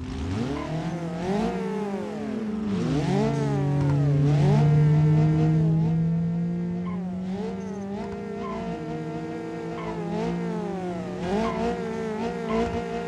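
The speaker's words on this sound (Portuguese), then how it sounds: "o motor tá funcionando ainda" Car engine in the BeamNG Drive driving game, a loud steady run of idling and revving with rising and falling pitch sweeps and some tire squeal, continuous throughout with no speech.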